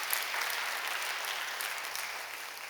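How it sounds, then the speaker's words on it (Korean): A church congregation applauds to welcome a new minister, filling the room with an even, sustained wash of clapping from many hands at moderate distance, with no speech over it. "여러분 크게 박수로 환영하시지요."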